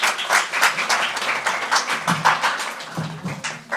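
Audience applause welcoming Dr. Shahida Dilawar Shah to the stage at an Iqbal Academy Pakistan seminar for International Women's Day: dense, steady clapping from a seated crowd, sustained throughout with no talk.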